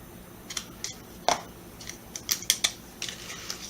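Scissors snip off a few small lilac-purple gems for a handmade Valentine's Day card, giving a close series of sharp, crisp clicks and cuts at an uneven pace.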